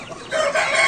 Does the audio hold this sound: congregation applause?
no